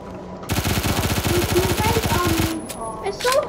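Rapid submachine gun fire in the video game Phantom Forces, a loud, fast stream of shots that runs for about two seconds before cutting off, with game effects heard afterward.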